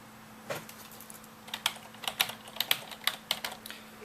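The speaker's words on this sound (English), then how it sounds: "Now I'm typing another message." Fingers tap on a computer keyboard in quick irregular bursts of clicks, close and fairly quiet, with a faint steady hum underneath.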